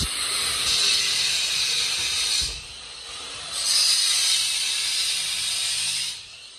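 Strong spring water gushes from a kitchen tap in a rural house as a loud steady hiss that stops briefly, then starts again and runs before tapering off, with no talk.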